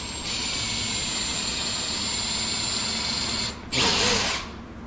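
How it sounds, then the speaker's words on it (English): A DeWalt power drill boring pilot holes into a wooden kneeboard for concrete finishing, a steady close whine that runs continuously for a few seconds, then cuts briefly and surges louder again. "now we're going to drill pilot holes so that way it doesn't split"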